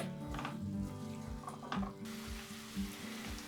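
Carrots sautéing in a pan for a Turkish carrot dish, a soft steady sizzle with occasional stirring scrapes and light clinks of a utensil against the pan, fairly quiet and close, no talking.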